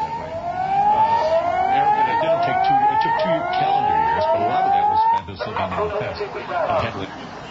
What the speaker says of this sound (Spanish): escuchamos las sirenas que indican la alerta y la evacuación que tiene que realizarse